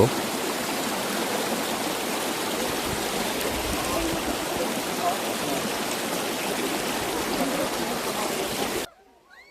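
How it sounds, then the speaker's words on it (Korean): The Seoksan valley stream below Sori Mountain in Yangpyeong rushes in a steady, loud wash of flowing water, heard close and continuous until it cuts off abruptly near the end. "앞에 보이는 계곡은 바로 석산 계곡입니다."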